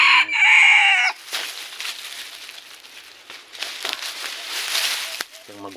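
An adult red junglefowl, freshly snared by a hunter in the wild, gives a loud close crow in the first second, followed by softer clucks and rustling.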